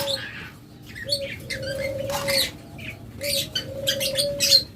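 A pair of rainbow budgerigars chirps and tweets in bursts of quick, bright calls, with a few wing flutters, fairly close and steady over a low background rumble.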